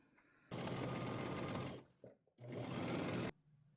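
A sewing machine stitches pajama fabric in two loud, steady runs, the first nearly a second and a half long and the second shorter, with a brief pause between them. No one speaks.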